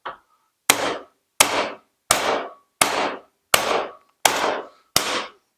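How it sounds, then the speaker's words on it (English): Eight sharp hammer blows struck in a steady, evenly spaced rhythm on a front suspension ball joint of a 1977 VW Bus camper held in a vise, each a loud close metallic crack that rings briefly before the next strike. "I want to get a bigger hammer."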